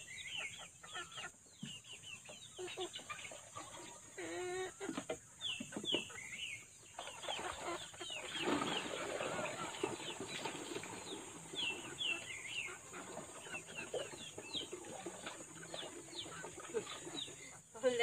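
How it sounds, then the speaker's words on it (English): Chickens cluck and squawk in a farmyard: a busy flock of overlapping clucks and calls, with brief bursts of wing flapping and a louder flurry midway. "All the chicken here."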